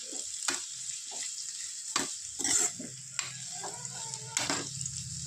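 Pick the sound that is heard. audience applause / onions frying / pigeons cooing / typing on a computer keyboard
onions frying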